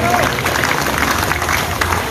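An audience at a police event applauds the vaccinators, steady dense clapping from a crowd with crowd noise and some voices mixed in.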